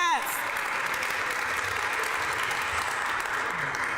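A big round of applause for families at a press conference, a steady wash of many people clapping at an even level, with a brief voice at the very start.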